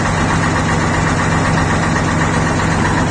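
A motorcycle engine idles steadily with a newly fitted muffler, giving a loud, continuous low rumble with a regular throbbing pulse that holds unchanged throughout, with no voices.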